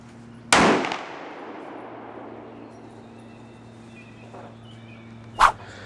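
Two sharp rifle shots from a Tikka .223 short-barrel rifle being sighted in, fired outdoors about five seconds apart. The first crack is loud and rings out in a decaying echo, and the second is a shorter, sharper report.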